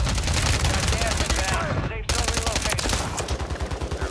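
Light machine gun fire in a video game, fast rattling bursts of close, loud shots in rapid rhythm, broken by a brief cut, then continuing with heavier thumping rounds.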